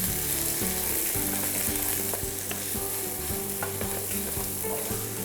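Spicy chickpeas frying in a pan over medium heat: a loud, constant sizzle with repeated scraping and stirring knocks, close up and with no talking.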